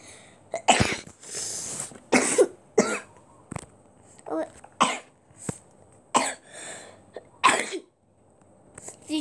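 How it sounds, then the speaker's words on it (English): A series of sharp, close coughs and sneeze-like bursts, about a dozen in irregular succession, separated by short quiet gaps. "Did you hear me cough right now?"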